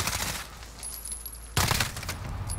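Pistol gunfire in Call of Duty: Modern Warfare, with loud, rapid shots in a dense burst, then a short lull and another strong burst near the end.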